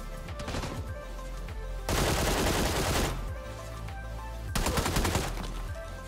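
A QBU designated marksman rifle in the PUBG video game fires in two loud, close volleys of sharp shots with a steady background hum between them.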